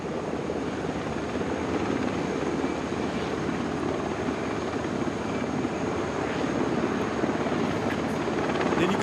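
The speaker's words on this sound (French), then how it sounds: "L'hélicoptère reste à peu près à une trentaine de mètres du sol." Military helicopter hovering about thirty metres above the ground during a commando exercise, a steady loud rotor and turbine roar that holds constant throughout with no talk.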